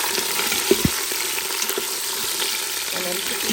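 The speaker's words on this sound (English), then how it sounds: "I'm adding my goat in it. And just stir it for a few minutes." Goat meat sizzles steadily in a pan with golden fried onions, a constant close frying hiss with occasional scraping knocks from stirring.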